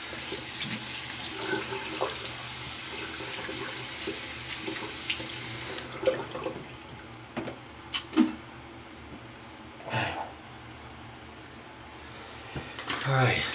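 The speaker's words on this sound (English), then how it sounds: "All right, cool water rinse." Tap water runs steadily into a bathroom sink for a cool rinse after a double-edge razor shave, a close hiss that stops after about six seconds, followed by splashes and drips.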